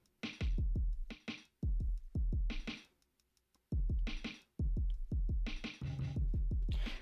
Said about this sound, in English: I'm gonna print this.